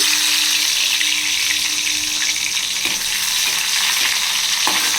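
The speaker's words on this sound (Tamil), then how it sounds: "பூண்டு ஃப்ரை ஆகிடுச்சு." Crushed garlic fries in oil in a kadai, giving a loud, steady sizzle throughout with a few light stirring scrapes and no talking.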